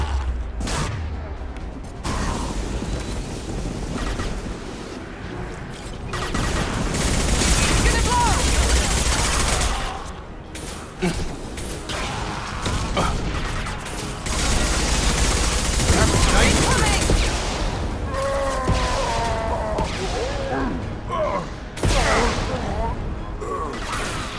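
Heavy gunfire in Mass Effect 2 Legendary Edition: a sustained, loud barrage of rapid shots and crashing impacts that runs without a break, with voices talking over the din at times.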